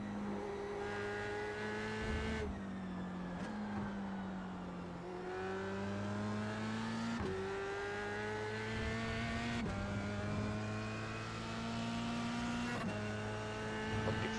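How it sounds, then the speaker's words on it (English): A McLaren GT3 race car in the iRacing sim revs hard and shifts up again and again, each gear rising in pitch before a quick drop. The engine is close and prominent, with no talking. "I need to drive the McLaren GT3"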